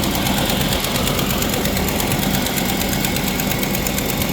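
A Chevy LS motor with an exhaust manifold leak runs steadily at a loud, close idle, a rough continuous drone with rapid ticking pulses throughout.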